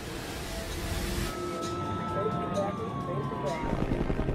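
Ambulance sirens wail in the distance, rising and falling tones over a busy rumble of engines and commotion at a burning airliner crash site.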